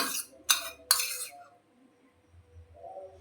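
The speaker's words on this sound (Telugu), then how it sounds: "ఇది బాగా పట్టిలాగా ఒకసారి మొత్తం అంతా కలుపుదామండి" Amla pickle with salt and chili powder is mixed in a pot, giving three quick metallic scrapes and clinks close up in the first second, followed by near silence with faint low shuffling.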